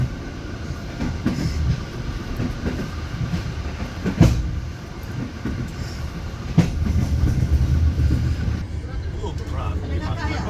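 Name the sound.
passenger train KA Rajabasa slowing near Kertapati station, Palembang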